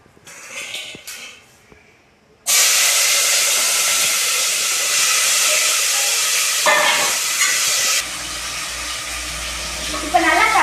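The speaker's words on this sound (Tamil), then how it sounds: "நறுக்கி வச்ச வெங்காயம் தக்காளியும் போட்டுக்கலாம்." Chopped onions and tomatoes drop into hot oil already crackling with mustard seeds and curry leaves for a chicken gravy, setting off a sudden loud, steady sizzle that fills the rest of the clip after a quieter start.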